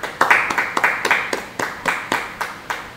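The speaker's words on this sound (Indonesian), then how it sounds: "Yang mau minta, beri tepuk tangan bagi dia." Congregation at a church Bible study clapping hands in a steady, evenly spaced rhythm, about a dozen sharp claps close by and fairly loud, with no talking over them.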